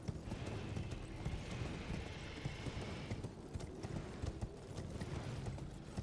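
Horse hooves clip-clopping steadily in the Elden Ring video game, a continuous rhythmic trot under a layer of game ambience and effects, fairly quiet throughout.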